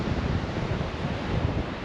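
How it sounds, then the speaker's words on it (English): Waves break at sea off Nash Point on the Glamorgan coast as the wind picks up, a steady broad wash of surf and wind buffeting the microphone, loud and continuous with no voices. "you can see the waves are breaking over it there, so the sea is picking up a little bit in this increasing wind"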